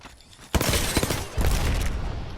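Gunfire in Apex Legends: a sudden rapid burst of shots breaking out after a brief quiet, then a second sustained volley, loud and close with crackling impacts.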